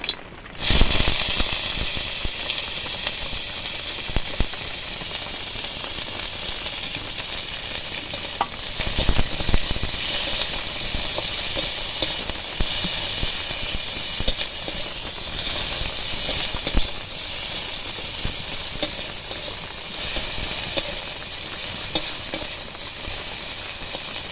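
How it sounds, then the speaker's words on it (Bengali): Chopped onion fries in hot oil in a wok, a loud, dense, continuous sizzle and hiss close up, with occasional stirring clinks throughout. "আবার আমি কড়াইয়ে তেল গরম করে নিয়েছি এবার দেব কেটে রাখা পেঁয়াজ"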